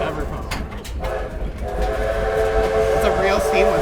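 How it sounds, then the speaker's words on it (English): Whistle of steam engine 3716 on a heritage railway ride, rising into a sustained harmonic tone over the rumble of moving rail cars, heard from aboard the train. "It's a real steam whistle"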